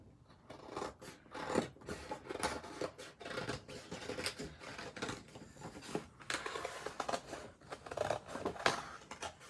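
Scissors cut through paper for handmade paper flowers, a quick run of close, crisp snips and rustles in an uneven rhythm, with no talking.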